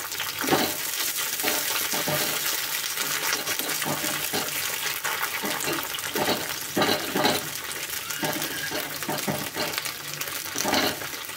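Green chillies fry and sizzle in a pan for coriander-tomato chutney, a steady close hiss broken by repeated stirring scrapes.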